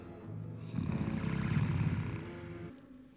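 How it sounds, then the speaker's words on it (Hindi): A person snores in deep sleep, a loud, rough, rumbling snore swelling and fading over about two seconds, with quieter breathing before and after. "ऐसे खर्राटे भर रहे हो जैसे सचमुच बड़ी मुद्दत से सोए हुए हो"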